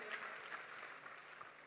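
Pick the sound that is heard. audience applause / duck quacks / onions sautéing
audience applause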